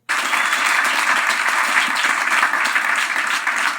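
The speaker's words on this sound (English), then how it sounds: "The only real applause that she had the entire skit" A comedy skit audience bursts into loud, continuous applause that starts suddenly and holds steady, a thick wash of clapping hands.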